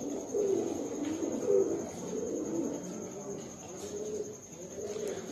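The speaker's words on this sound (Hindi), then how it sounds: "ये प्योर जंटे वाले कबूतरों का जोड़ा है" A pair of Punjabi Malwai pigeons coo in low, repeated rolling phrases close by, a soft steady murmur running through the whole stretch against a quiet background.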